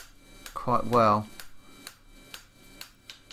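A small 2.2-pound (one-kilo) hammer strikes metal while a horse-head back scratcher is forged, giving sharp, evenly spaced taps after a brief spoken word.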